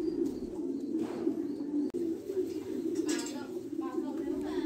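Thai Titan pigeons coo softly in a loft, a steady low murmur of cooing with faint chirps layered over it, continuous throughout.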